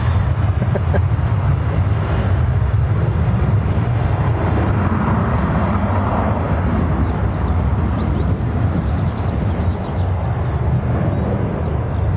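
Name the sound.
Jet2 airliner rolling for takeoff at Stansted Airport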